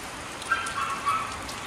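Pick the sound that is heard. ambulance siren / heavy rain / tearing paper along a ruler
heavy rain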